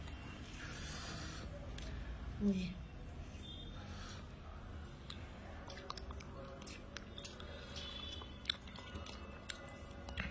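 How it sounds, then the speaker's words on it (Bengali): Someone eating pulao with aloo dum, soft close chewing and mouth noises at low level, with a brief louder breathy sound early on. "পোলাও আর আলুর দম খেয়ে দেখি চলো"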